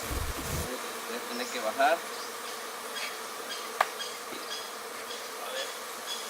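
A swarm of aggressive bees buzzes around a huge honey-filled hive, a faint, steady insect drone that runs throughout, with a voice briefly speaking at the start.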